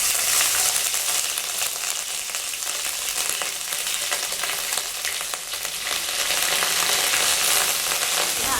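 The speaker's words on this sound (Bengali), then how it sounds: "এবার দিয়ে দেব পেঁয়াজ বাটা।" Onion paste hits hot oil in a village-style kitchen, setting off a loud, dense, crackling sizzle that stays steady and close for several seconds, alone without talk.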